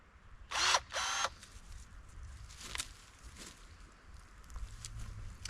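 A DeWalt 20V MAX cordless pruner cutting a fruit tree branch in an orchard gives two quick, loud motorized snips close together, then quieter outdoor rustling and handling noise without speech.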